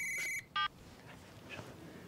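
A telephone rings in a restaurant dining room, giving two short electronic trills in quick succession before fading into quiet room tone.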